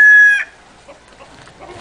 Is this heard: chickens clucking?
yes